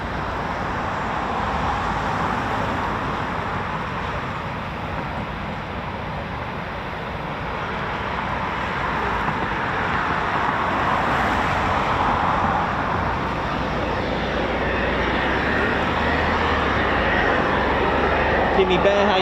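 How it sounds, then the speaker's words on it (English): Rolls-Royce EJ200 jet engines of a Eurofighter Typhoon FGR4 spooling up at an RAF station, a broad, steady roar and whine that slowly builds in loudness over the whole stretch. "That beautiful sound of the Rolls-Royce EJ200 engines."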